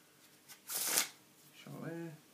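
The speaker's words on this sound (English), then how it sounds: "Shuffle there." A deck of playing cards is shuffled in two quick riffles: a loud burst of flicking cards, a short pause, then a fainter second shuffle ending in a faint tonal sound.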